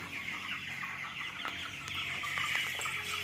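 A large flock of chickens clucks in a village poultry pen, a steady, moderately faint chorus of overlapping clucks with a few sharper calls.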